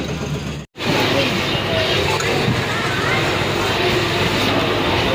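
A train at a busy railway station produces a steady, loud rumble and hiss that fills the whole span after a brief cutout near the start, with crowd voices likely mixed in.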